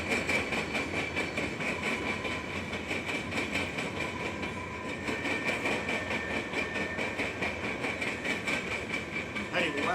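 A freight train rolls across a rail diamond with a heavy rhythmic clatter of wheels pounding over the crossing joints, steady and continuous, under a low rumbling engine.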